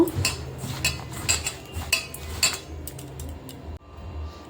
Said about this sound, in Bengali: এবার আমি সজনে ফুলটা মেখে নেব, জল দিয়ে দেবো অল্প, এবার মেখে নেব